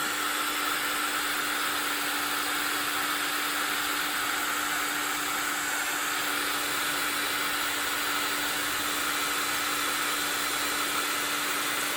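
Hair dryer blowing steadily on embossed watercolor flowers, a loud, continuous whooshing roar with a high motor whine, held without a break from start to finish.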